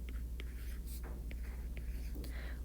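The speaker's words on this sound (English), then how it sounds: "I'm going to write this next to it." Pen or marker scratching on a surface while writing by hand, short close strokes and scribbles in quick succession, faint and dry over a low steady hum.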